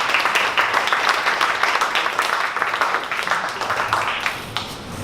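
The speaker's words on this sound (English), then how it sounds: "Give a round of applause" Audience at a Dallas startup pitch event applauding, a dense steady wash of many hands clapping that slowly tapers toward the end, with no talk over it.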